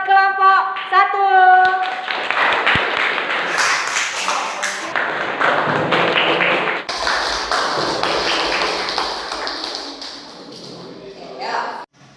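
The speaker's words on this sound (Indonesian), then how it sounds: "Tepuk tangan buat kelompok 1." A classroom of students claps for the first group about to present, loud irregular clapping mixed with children's chatter, tapping and shuffling, fading toward the end.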